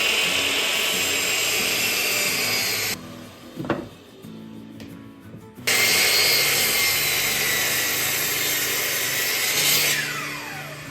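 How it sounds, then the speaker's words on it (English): Bandsaw cutting wooden boards for wheel chocks: a loud, steady whirring saw drone that drops away briefly mid-clip with a few knocks, then resumes at full level and runs to the end. "Put the boards together and then cut it right on your line."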